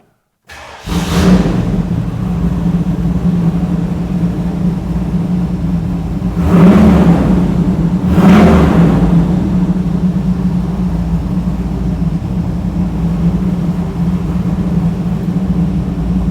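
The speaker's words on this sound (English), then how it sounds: "I wanted to crank this Bronco up for you. I'll let you hear this 392 stroker motor." A Ford Bronco with a 392 stroker V8 starts up and settles into a loud, steady rumbling idle, with two sharp throttle blips midway before it drops back to a deep, even idle.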